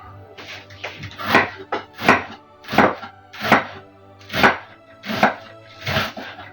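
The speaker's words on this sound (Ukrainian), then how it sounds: "Цибулю ріжу чверть кільцями, якщо велика цибуля, якщо меншечка цибуля, можна під кільцями." Steady knife chops on a cutting board as an onion is sliced into thin rings, about a dozen crisp strikes in an even rhythm, close and clear with no talking.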